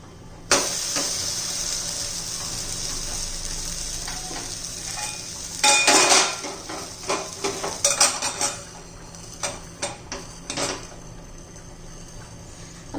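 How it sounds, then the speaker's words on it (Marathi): A pan lid is lifted and a pea and spinach patty or fritter is turned over in a hot pan. A steady close sizzle runs throughout, with sharp clinks and scraping bursts partway through and again near the end. "आता झाकण काढून पाहूया आपण आता आपण उलट करून घेऊया"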